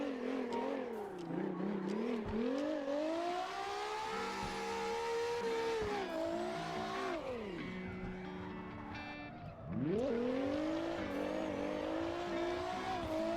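Nissan GTR R35 engine revving and drifting in the video game CarX Drift Racing, a loud continuous engine note that climbs and falls through shifts, with tire squeal and skidding through a final corner.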